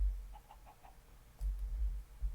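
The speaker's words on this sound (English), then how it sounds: "Where's that chicken at? I hear it bark" A Minecraft chicken gives a few soft, quick clucks in a short row, faint over low rumbling background noise.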